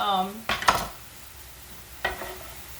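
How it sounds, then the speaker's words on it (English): Garlic stirred in olive oil in a pan, a few quick scraping stirs against the pan over a faint sizzle, close by, with a brief voice at the start. "I'm just going to stir this in and kind of get it browned with that olive oil"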